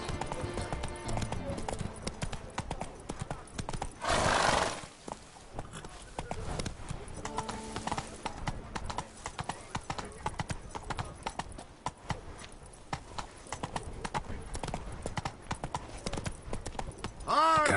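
A horse named in The Witcher Wild Hunt runs in the game, heard as a steady rhythmic clip-clop of hooves throughout, moderately loud and mixed with game sounds, with a brief louder burst near the start.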